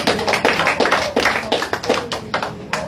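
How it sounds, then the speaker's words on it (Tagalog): A church congregation claps hands in praise, a run of sharp, irregular claps close by, with no voices over them. "Palakpakan natin ang Panginoon."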